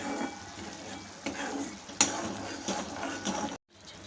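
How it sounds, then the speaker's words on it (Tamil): Rajma gravy simmers in a pan over a medium flame with a soft, steady bubbling and light sizzle, with a brief clink of a utensil partway through. "ஒரு two to three minutes medium ஃப்ளேம்லே சேர்ந்து கொதிக்கட்டும்"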